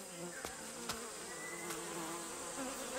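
A dense swarm of bees buzzes steadily around a hive in Ethiopia, a continuous mid-level hum with individual insects passing close now and then.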